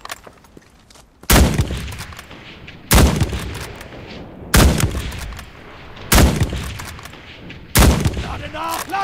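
Five loud, sharp Kar98k bolt-action rifle shots from the World War II shooter Enlisted, evenly spaced about a second and a half apart. Each crack is followed by a short rumbling tail and quieter bolt handling.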